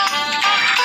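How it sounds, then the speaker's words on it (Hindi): A telephone ringtone sounds in a brief, bright electronic burst, loud and close, with nothing else around it. "सुलोचना हिचकिचाते हुए फोन का रिसीवर अपने चेहरे के सामने लाती है।"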